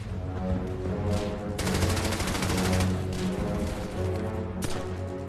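Sustained bursts of German machine gun fire from a WWII battle near an abbey roll on loud and dense, with a sharp new burst near the end.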